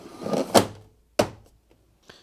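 A couple of plastic clunks and knocks, close by, as an appliance's water container is pushed and snapped into place, with a faint tap after a pause.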